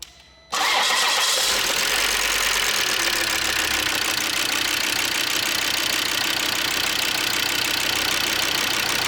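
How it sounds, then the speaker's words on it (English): After a timing belt replacement, a worn car engine with more than 300,000 km cranks over briefly and catches, then settles into a loud, steady idle close up with no voices. "After that, I can go ahead and test start the engine."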